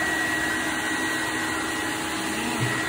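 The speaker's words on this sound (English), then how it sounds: "Like a hair dryer, but it's paper dryer." A steady, loud motorized whir with a constant high whine from a small suction dryer drying washi paper, running continuously without a break.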